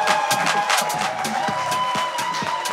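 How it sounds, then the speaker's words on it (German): Arm-wrestling event crowd cheering and whooping for the staff, loud sustained shouts and applause from a packed room with scattered claps and a steady tone beneath. "Einmal bitte einen dicken Applaus für die ganzen Leute"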